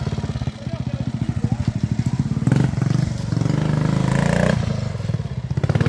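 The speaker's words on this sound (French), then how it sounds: "Moto bécane préparée par ses soins." An old Motobécane motorcycle engine running at a classic trial event, a close, loud, chugging single-cylinder thump with brief revving swells, with people talking over it.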